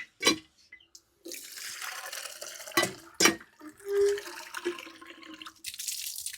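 Water poured from a mug holding one and a half litres to measure drinking water for poultry, heard as several close splashing pours and drips separated by short pauses.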